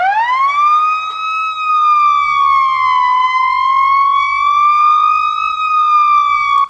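A loud, clean electronic siren wails alone, its pitch rising and falling slowly with bright harmonics and no other sounds.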